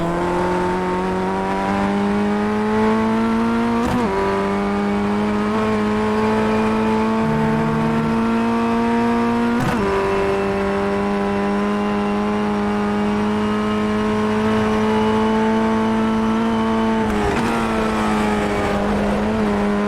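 A Formula Ford race car engine from iRacing holds a loud, steady high-revving whine, with brief pitch dips and jolts at gear changes or bumps, heard alone without any talk.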